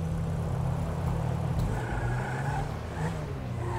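A Lamborghini Aventador reverses in the video game GTA V, a deep steady engine rumble with slight rises in revs, continuous and fairly close throughout.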